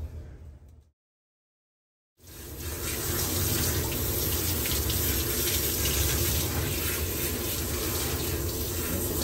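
Tap water runs steadily while a doodle dog is rinsed during grooming, a close continuous rushing that starts abruptly after a short silent gap.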